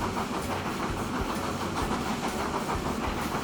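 A fully loaded freight train running fast in the Transport Fever 2 simulation game, with continuous rumbling wheels and a steady clickety-clack rhythm over the rails, close and loud with no talk.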